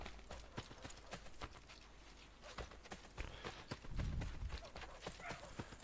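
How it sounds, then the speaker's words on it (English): Galloping horse in Assassin's Creed Brotherhood, hooves pounding in a quick continuous rhythm with a brief whinny and heavier thuds near the end, under occasional talk. "Except for the horse is taking its time and it's not catching me up."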